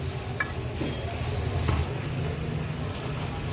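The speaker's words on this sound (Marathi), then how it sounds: "आता हे सर्व मसाले आपण ह्याच्यात मिक्स करून घेणार आहोत" Spices are stirred into a pan of street-style Mumbai egg masala, a quiet close scraping and light sizzle running steadily with a couple of small utensil taps, no voices over it.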